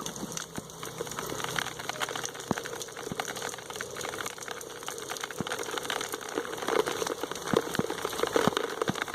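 Steady rain falls in Tabuleiro do Norte, a broad continuous wash with scattered sharper drop hits on nearby surfaces, moderately loud and unbroken with no voices.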